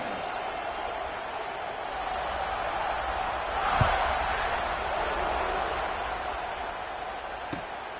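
Football stadium crowd at an NCAA game kickoff, a broad sustained roar that swells slightly in the middle, with a sharp thump near the midpoint and another faint knock later.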